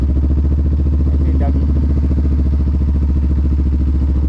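Motorcycle engine pulling under light throttle in first and second gear up a steep uphill street, a steady loud low drone with rapid pulsing firing rhythm and some clatter, close and continuous throughout.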